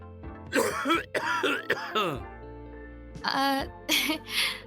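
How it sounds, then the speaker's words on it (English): Close, harsh coughing in several bursts, mixed with throat clearing and short pauses between fits. "There's a sound of coughing."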